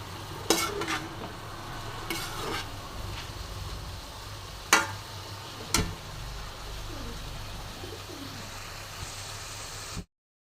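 Spices fry in oil in a pan with a quiet, steady sizzle, while a spoon stirs and scrapes against the metal in a few sharp, separate strokes close by.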